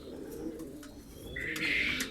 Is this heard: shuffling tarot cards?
no